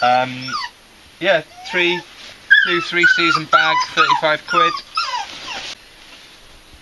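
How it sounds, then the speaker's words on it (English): Inside an army surplus store, a dog whines in high, thin whimpers behind someone talking up close, its cries surfacing between his phrases. "You have to excuse my dog whining in the background."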